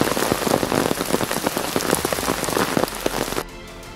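Heavy rain pours down across Karnataka, a dense, loud, steady hiss of drops pounding surfaces for over three seconds before abruptly cutting to quiet.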